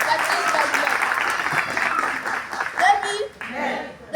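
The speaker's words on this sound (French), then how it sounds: "Applaudissez" An audience applauds during a children's holiday workshop showcase of storytelling and riddles, with dense, continuous clapping mixed with children's voices before it breaks off near the end.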